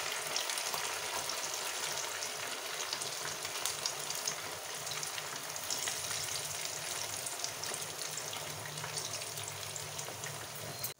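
Chicken pieces deep-frying in hot oil for an extra crispy wedding-style chicken fry, a steady dense sizzle and crackle holding even and close throughout with no voices.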